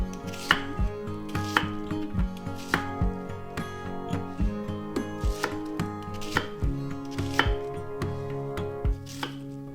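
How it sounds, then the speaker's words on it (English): Knife chopping an onion into wedges on a cutting board, a steady series of crisp, close thuds with short pauses between cuts, no talking. "Cut 1 onion in half and then cut each half into 5 to 6 wedges."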